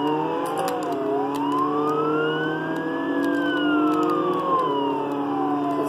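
A police car siren in the Jailbreak video game wails steadily, its pitch sweeping slowly up and down in a loud, continuous cycle, with faint clicks and engine hum beneath.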